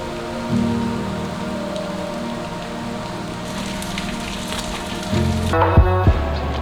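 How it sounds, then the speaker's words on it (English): Rain patters steadily on surfaces while someone walks outdoors near a Bangkok evening market, a soft continuous crackle with a tonal hum in the background and a few louder clatters near the end. "it was raining and we just didn't want to lose the time, so we just go through the rain as well"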